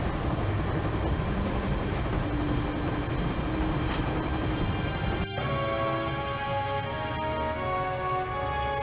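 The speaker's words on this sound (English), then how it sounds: "I'd always wanted to stop a train, and now was my chance." A train passing in the video game Broken Sword: The Shadow of the Templars, a loud, continuous rumbling roar with droning tones that shift partway through and then hold steady, with no speech.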